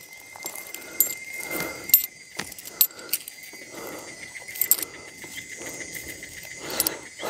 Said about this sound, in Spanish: Pero antes vamos a guardar las monedas.